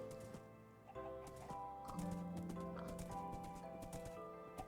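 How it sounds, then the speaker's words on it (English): A donkey and a baby donkey in a video game, with steady hoof clip-clop and brief braying calls over layered ambient game music, no voices. "A donkey, and a baby donkey."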